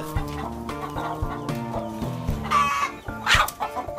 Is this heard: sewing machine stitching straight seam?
no